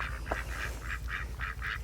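Ducks quacking outdoors near a house during late spring mating season: a steady run of about seven nasal honking quacks in quick succession, close and fairly loud, over a low background rumble.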